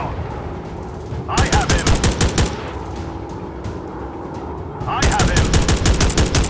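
Machine guns on a WW2 fighter plane rattle loud and close in the Warplanes dogfight game, firing two long rapid bursts separated by a short lull, with a voice speaking briefly between them.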